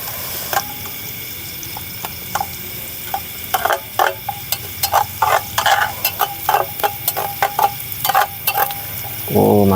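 Sausage fried noodles cook on a camping stove at a solo camp in an oil palm plantation, with a low sizzle under repeated sharp scraping and stirring clatters from a utensil in the pan, no talk.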